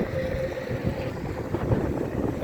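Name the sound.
strong wind blowing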